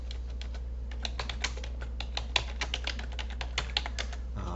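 Computer keyboard keys, the arrow keys, tapped repeatedly in a quick uneven rhythm of light clicks, close by over a steady low electrical hum, with no talking.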